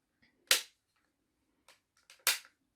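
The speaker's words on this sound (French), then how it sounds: "Le cran de sécurité qui neutralise l'arme ici." The safety catch of a Langley Pro Sniper break-barrel air pistol makes two crisp mechanical clicks about two seconds apart, with a few faint handling ticks between, in an otherwise quiet room.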